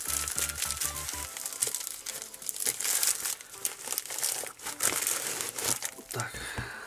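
An empty plastic parcel bag from a China-shipped HDD docking station order being handled and opened, giving dense, continuous crinkling and rustling, close and fairly loud, with a brief musical tone at the start.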